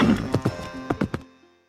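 Horse hooves clip-clopping at a walk, several distinct knocks in an uneven rhythm over a faint sustained tone, fairly close and moderately loud before fading out.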